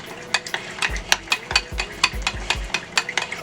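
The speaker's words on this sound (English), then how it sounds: "Alright, we're just going to mix that up." A spoon stirring Worcestershire sauce in a bowl for a shrimp po' boy, with repeated quick scraping clinks against the bowl in a steady rhythm, close and fairly loud, with no talk.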